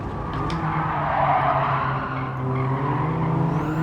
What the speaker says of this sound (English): Start our braking now.